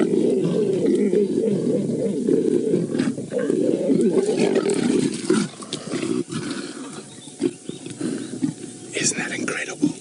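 Lions on safari snarling and growling low and continuously during mating, a dense rough rumble that breaks into shorter growls toward the end, with faint birdsong in the background.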